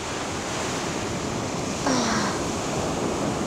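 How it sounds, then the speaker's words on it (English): Ocean waves breaking on a beach in the early morning, a steady wash of surf noise with wind, slightly swelling near the middle and continuing throughout. "I gotta get out of here before I get hit by the waves"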